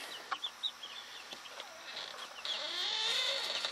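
Free-ranging backyard chickens at a friend's coop cluck in short bursts early on, then a steadier, denser run of bird calls and rustling takes over, fairly close and with no talk.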